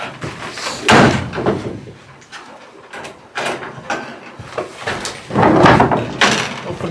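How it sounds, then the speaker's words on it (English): Doors on animal pens for goats being opened on a farm, several loud close clanks and bangs in uneven bursts with quieter rattling between. "Open their doors, let them out."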